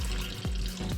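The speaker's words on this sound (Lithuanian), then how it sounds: "Atsargiai per kraštą nupilu." Water is carefully poured off over the edge of a pot of rinsed rice for plov, a steady, close trickle and splash that runs without a break.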